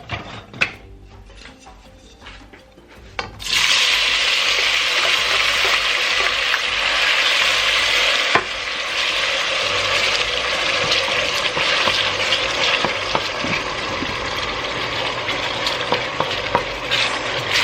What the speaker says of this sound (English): So let me go ahead and pour my onions and tomatoes in my pot.